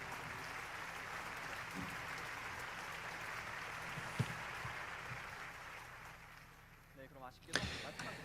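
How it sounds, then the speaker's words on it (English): Faint, distant applause from an online assembly audience for the two winning teams of a Synergy International 2021 contest, a steady low clapping texture that fades toward the end, with a few thumps. "Let us give another round of applause to the two winning teams from the Synergy International 2021 contest."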